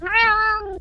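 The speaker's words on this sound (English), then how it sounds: "That was a very loud cat." A cat lets out a single loud, drawn-out meow close by, clear and tonal for just under a second, with no voices over it.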